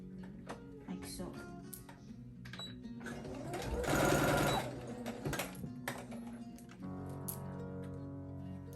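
A sewing machine stitches a fabric band for a balloon sleeve, its needle chattering in fast close bursts that speed up and pause, with a person talking over parts of the run.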